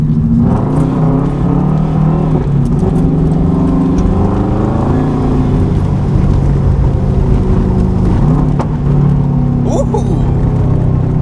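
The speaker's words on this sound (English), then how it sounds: "Backfires. Yeah, it pops." A 2010 Subaru WRX hatchback with a 3-inch straight-pipe exhaust revs loudly up close, its growl rising and falling, with a few sharp popping backfires near the end.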